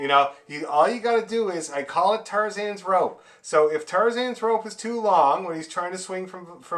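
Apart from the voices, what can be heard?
None of the usual background noises is heard.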